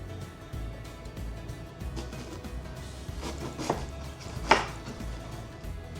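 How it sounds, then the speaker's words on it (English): A knife slices through half a cabbage, cutting it into big pieces for bulalo soup: two crisp, close cuts stand out against a low, steady background hum. "we will be slicing it in big pieces"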